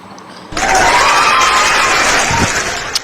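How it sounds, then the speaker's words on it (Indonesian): Sudden burst of audience applause with crowd noise for Yonatan Andar during a debate, loud and continuous with a voice rising over the clapping. "Kasih tepuk tangan dulu Yonatan Andar."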